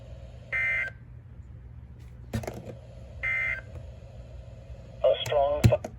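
Emergency Alert System tones for a severe thunderstorm warning sound over a TV or radio broadcast: short, loud two-tone bursts repeat at spaced intervals, ending in a cluster of beeps and clicks.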